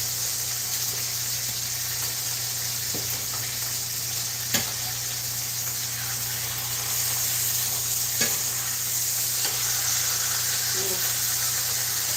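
Food sizzles steadily in a hot pan, a constant crackling hiss with a few sharp pops and clatters from stirring.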